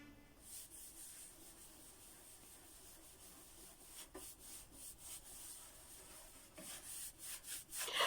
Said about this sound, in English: I apply my wax in every direction